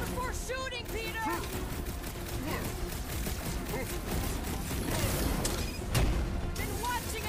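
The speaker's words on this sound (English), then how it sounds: "Peter! Shoot now!" Rapid gunfire and crashing impacts in the Guardians of the Galaxy video game, a steady barrage of shots and bursts with a heavier blast near the end, while character voices shout over the combat.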